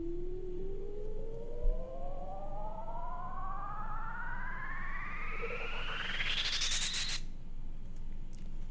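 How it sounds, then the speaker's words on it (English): A synthesized riser: a pure sine tone sweeps steadily upward over about seven seconds, layered with hissing white noise that swells near the top before cutting off abruptly. "this one's like a sine wave that is like progressively going up"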